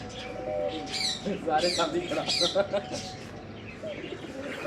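Pigeons on a farm coo and warble in overlapping bursts close by, with squawky bird calls mixed in and a faint steady hum beneath.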